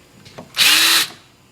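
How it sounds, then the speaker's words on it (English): A power drill bores a quarter-inch hole through a wooden lanyard bead, a brief loud whine lasting about half a second after a faint tap, alone and close. "drill a 1/4 inch hole in it."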